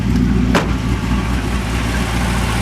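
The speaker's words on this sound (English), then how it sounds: "this thing purrs like a kitten, has a nice chunky throaty lope from the camshaft that we have inside there." A 2007 Jeep Grand Cherokee SRT8 with a built 426 stroker engine and aggressive camshaft idles with a steady, loud, throaty lope close by, with a brief rev-like swell early on and no talking.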